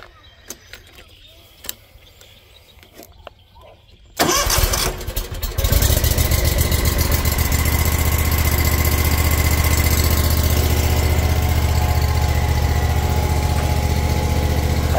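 A Hustler Fastrak SDX zero-turn mower cranks over after a few quiet seconds, catches and settles into a loud, steady, continuous engine drone close by.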